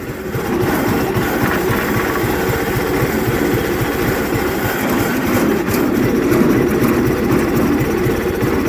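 A cold Cub Cadet 1811 lawn tractor engine with a new carburetor runs just after its first start, a loud, steady, close chugging drone with a fast low pulse throughout and no talk.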